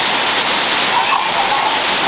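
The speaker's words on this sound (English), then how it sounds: "We get quality rain here." Heavy rain falling steadily outdoors at a shed building site with a concrete slab and canal, a dense, even hiss of rain on surfaces, loud and close, continuing without pause.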